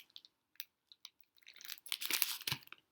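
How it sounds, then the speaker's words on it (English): Crunching and chewing of breakfast food close to the mic: sparse, crisp bites at first, then a dense, louder burst of crunching and crinkling near the end. "I apologize if you hear me chewing"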